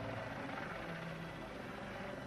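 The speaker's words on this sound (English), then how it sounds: "Our helicopter over Dover is taking the picture of Swift" A helicopter flying over Dover gives a steady, continuous rotor and engine drone at moderate distance, with no voices over it.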